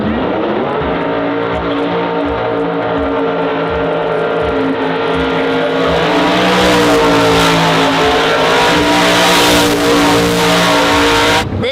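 A burnout vehicle's engine idles with a deep rumble, then revs up into a loud, sustained roar that holds high and rough, close by with no talk.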